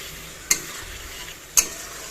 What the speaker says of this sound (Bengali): মাছ দিয়ে আর একটু সুন্দর করে কষিয়ে নেব